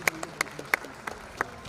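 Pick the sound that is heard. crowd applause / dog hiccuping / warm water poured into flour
crowd applause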